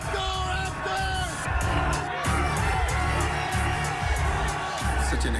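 Crowd cheering and whooping at Scotiabank Arena during an NBA Finals game between the Raptors and Warriors, a dense, continuous roar with scattered yells and shouts throughout.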